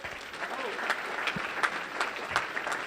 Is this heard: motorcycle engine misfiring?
no